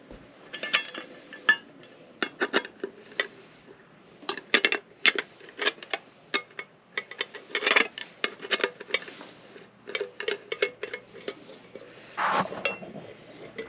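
Plastic and metal parts of a water filter being fitted together as a handle is mounted onto the filter lid, heard as a close run of irregular clicks, clinks and light knocks with no talking.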